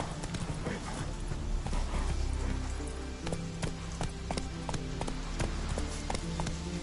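Hooves of Geralt's horse Roach clip-clop in a fast, steady gallop in The Witcher 3: Wild Hunt, rhythmic thuds under game music and ambience.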